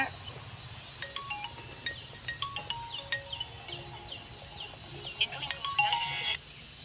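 A mobile phone ringtone plays in a rural comedy sketch, a run of repeated chirping melodic tones rising over steady background noise, with a voice briefly heard near the end.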